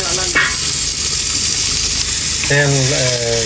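Hot oil sizzling steadily in a frying pan as hilsa fish fries, a loud continuous crackle with a few tonal whistles and clanks over it.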